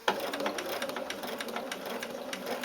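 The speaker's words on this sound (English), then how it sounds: "So if you don't have my type of machine, make sure your needle's down, raise your presser foot, and pivot a little bit." A sewing machine stitching fabric for a face mask: a steady, rapid mechanical chatter of needle strokes running continuously at a moderate level, close and with no talking.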